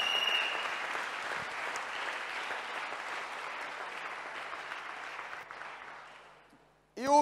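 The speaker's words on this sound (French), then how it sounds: "Clap for Jesus On Christ." Church congregation applauding in praise, a dense sustained wave of clapping that holds steady for several seconds before tapering off, then bursting back loudly at the end.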